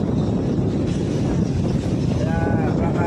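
Strong southwest monsoon wind (habagat) buffets a boat at sea, a dense, steady roar of wind and water rushing against the hull, constant and loud throughout with no clear voice.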